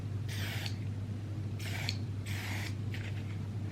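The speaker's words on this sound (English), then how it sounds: "It sprays like a mist." Three or four short hissing bursts of mist from a hair spray bottle, each under half a second, with brief pauses between them over a steady low hum.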